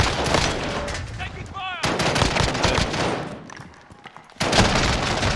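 Rapid automatic gunfire in a shooter video game, bursting loudly in close, repeated volleys with brief pauses and some game effects between them. A player's voice is heard over the shooting.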